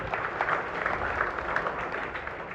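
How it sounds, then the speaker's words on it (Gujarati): Applause from a gathered crowd at a Diwali Annakut darshan event at a Ram temple, a dense, even patter of many hands clapping for a few seconds. "જોરદાર તાળીઓથી વધાવશું."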